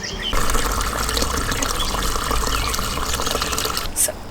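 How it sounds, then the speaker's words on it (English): Water runs steadily from a tap into a cheap bucket in a garden, a continuous close splashing rush that lasts throughout, with a brief brighter splash near the end. "Let's go fill with some water."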